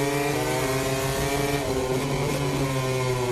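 MotoGP racing motorcycles scream around the Motegi circuit in Japan, a loud, continuous high-revving engine wail with quick pitch dips as the seamless gearbox shifts down, sounding close and steady.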